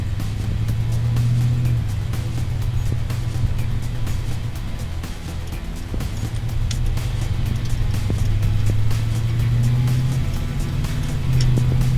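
2002 Chevrolet Silverado engine idling with newly fitted Speed Engineering headers, a loud, close, continuous throaty rumble whose idle pitch wavers and hunts slightly up and down.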